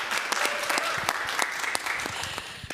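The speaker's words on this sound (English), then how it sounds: "I feel like we should be starting with some applause for our guest artists." A festival audience claps for guest artists from a New Orleans brass band, a dense, even round of applause from a crowd indoors.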